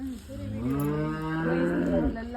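A buffalo in a village lets out a single long, loud mooing call lasting about two seconds, deep and droning with a slight rise in pitch, heard close by with no other voices over it.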